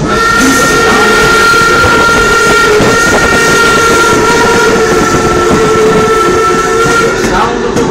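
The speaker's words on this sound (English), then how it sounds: "the sound of the wheels against the tracks" A Greenfield Village railroad train rolls along, with loud, close wheel noise on the tracks under a sustained steam whistle tone throughout.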